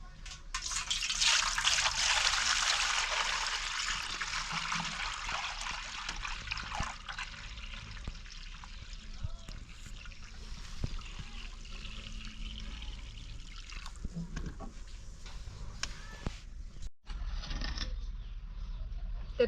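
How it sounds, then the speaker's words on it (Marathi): Water is poured off the top of a container of settled wheat starch, a continuous splashing trickle that starts strong, then thins to a quieter dribble over about twenty seconds. "आता ही आपला डबा मी उघडलाय चिकाचा वरचं वरचं पाणी आपल्याला सगळं काढून घ्यायचंय"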